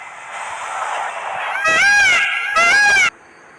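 A peacock gives two loud, harmonic wailing calls in quick succession, each under a second long, rising over a steady background hiss before dropping to quiet.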